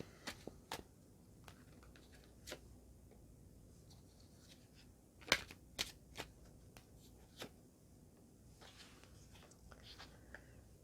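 Tarot cards shuffled and laid on a table during an Aries ribbon reading, a soft, faint papery riffling with scattered small taps and flicks, several sharper snaps near the middle.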